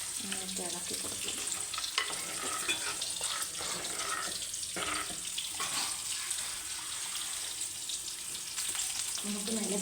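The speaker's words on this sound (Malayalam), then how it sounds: "നന്നായിട്ട് ഇളക്കി കൊടുക്കും." Fish curry with chili powder and water stirred in a pan, a soft bubbling sizzle under occasional scraping spoon strokes, faint and continuous, no voices.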